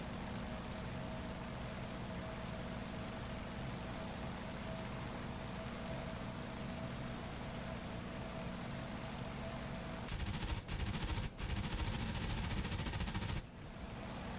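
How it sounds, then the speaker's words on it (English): Engine drone of an F4U Corsair in the DCS flight sim runs steady throughout, then dense bursts of machine-gun fire break out near the end as it strafes aircraft parked on stands. "we'll go in for another strafing run on the aircraft that are parked on the stands"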